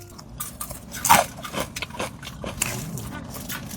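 Crispy fried vegetable chicken crunches as someone bites into it, with one loud close crunch followed by several softer chewing crunches, under light background noise and no talk.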